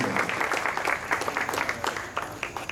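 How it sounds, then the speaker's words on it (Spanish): An audience at a tribute ceremony for Paraguayan musical figures claps steadily, a brisk, fairly distant applause of many hands. "Un fuerte aplauso para la señora Margarita Morselli de la Fundación Cabildo."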